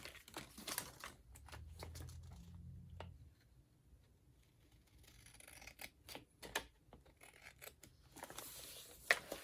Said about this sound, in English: Now what I'm going to do is I'm going to trim that down just a little bit.